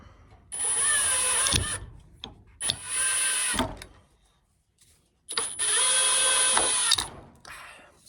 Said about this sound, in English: I'm gonna drill a little pilot hole